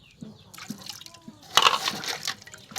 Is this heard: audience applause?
no